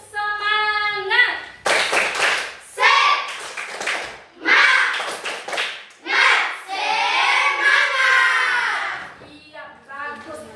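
A third-grade class of children does a rhythmic 'tepuk semangat' clapping routine, bursts of patterned hand claps in time with their loud group chanting.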